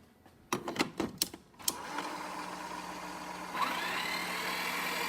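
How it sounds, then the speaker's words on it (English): A Breville espresso grinder runs empty with no beans, a steady close motor whir that kicks in after a few brief clicks and handling knocks, then rises slightly in pitch and level partway through. "just to test the grinder"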